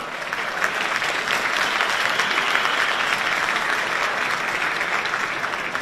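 A hall full of people applauding for several seconds in a steady, dense wash of clapping, loud and continuous without a break.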